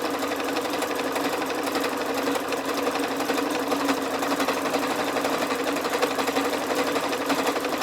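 Continuous close-up whir of a sewing machine stitching at a steady, fast pace, with no talking.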